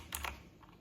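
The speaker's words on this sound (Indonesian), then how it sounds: "Kalau kita ngetik tuh suaranya kenceng banget. Nah, suaranya kenceng banget ya. Ini mechanical keyboard." Typing on an Armaggeddon MKA 3C mechanical keyboard: a quick cluster of loud, clacky keystrokes near the start, then a few softer key clicks trailing off, close and with no talking.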